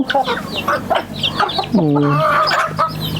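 Chickens cluck close by in short bursts, followed by a longer drawn-out squawk, with faint voices in the background.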